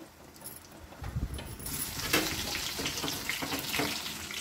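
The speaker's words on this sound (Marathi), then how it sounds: "हे बघा, आपण दुसरा टाकूया. हे बघा, असे सगळे तळून घेऊया." Battered besan bread pakoda sizzling in hot oil, a steady hiss and crackle that swells as another piece is dropped in, then bubbles on continuously.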